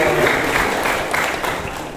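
An audience at a community association general meeting in Batam applauds in a steady, dense wash of clapping that fills the whole stretch at moderate loudness.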